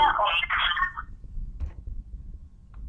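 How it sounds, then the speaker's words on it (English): Stray noise from a caller's unmuted phone on a conference call: a burst of telephone-like tones and garble for about a second, then a low, muffled line hum with faint clicks. "somebody got their phone off mute"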